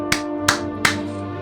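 Three sharp hand claps spaced about a third of a second apart, crisp and close over a steady tonal hum, with no talking.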